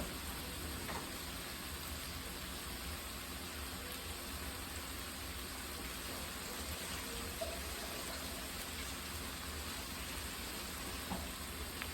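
Potatoes get a quick rinse under running water for ground beef taco filling, heard as a steady, even rush from the tap with no breaks throughout.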